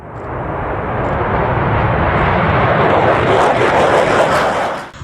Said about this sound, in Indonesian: ini namanya pesawat teman-teman